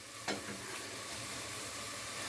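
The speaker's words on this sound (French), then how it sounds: "On vient bien mélanger." Food sizzling steadily in a hot pot while being stirred, a faint scrape near the start, then a constant soft frying hiss with no voices.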